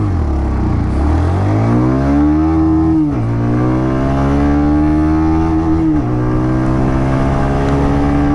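A Bajaj Pulsar 125 motorcycle accelerating hard from first gear, its engine whine climbing in pitch, dropping at two gear changes, then rising again, loud and close throughout.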